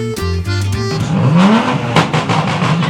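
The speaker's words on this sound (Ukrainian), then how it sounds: "Там на фоні BMW М3 газує." A BMW M3 at a Kyiv car festival revs its engine hard in the background, the roar climbing in pitch, while music plays at first and crowd noise surrounds it.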